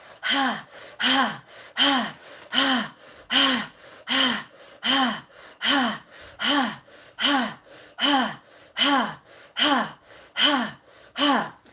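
Deep breathwork breathing, a steady cycle of about fourteen loud, close, rhythmic gasping inhales and exhales repeating roughly every second, with no talk.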